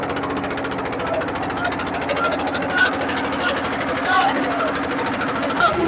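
An Eicher tractor engine runs steadily in a village tractor contest, giving a loud, continuous mechanical throb with a fast regular pulse and no break.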